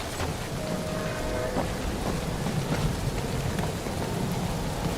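Steady rain pours throughout a thunderstorm in the video game Guardians of the Galaxy, with a dense hiss of falling water and low rolling thunder rumbling underneath, no speech.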